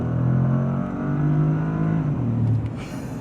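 A Bentley Flying Spur Speed pulls hard under acceleration, its engine note climbing in a smooth, loud whir from inside the car, then easing off near the end.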